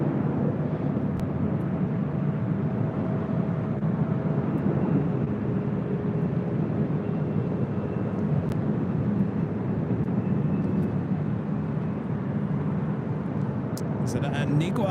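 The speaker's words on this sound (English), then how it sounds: "This is Delta Airlines Flight 789 heading to SFO San Francisco and it's 737-800" A Delta Airlines Boeing 737-800 at LAX produces a steady, broad engine roar that holds at an even level the whole time, with a few faint ticks near the end.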